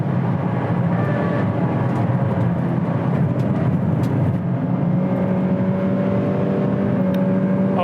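A Mazda MX-5 NC race car engine on a hot lap, a loud, sustained in-car drone with shifting revs and rising tones as it accelerates, with no one speaking.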